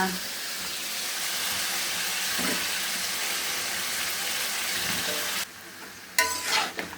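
Red lentils frying with onion and dried chili in a home kitchen, a steady loud sizzle with stirring scrapes for about five seconds, then a quieter pause followed by a few sharper clatters near the end.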